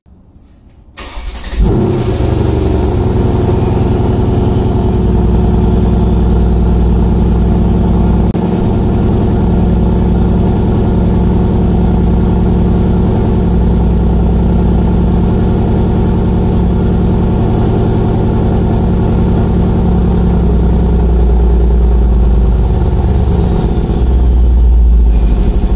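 An AMG car engine idles steadily with a deep, rumbling low end after a quiet start, holding a constant loud drone throughout with slight swells.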